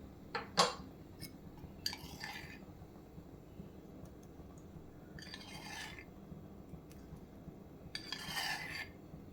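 A spoon scooping curd into soaked soybeans in a bowl, with quiet scattered clinks and scrapes against the dish, a couple of sharper taps, and soft pauses between.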